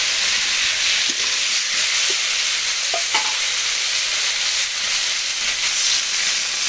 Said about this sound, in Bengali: দিয়ে দিচ্ছি ভেজে রাখা আলুগুলো।